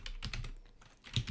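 Quick run of keystrokes on a computer keyboard while entering a folder name, steady clustered clicks close to the mic with a slightly louder press near the end.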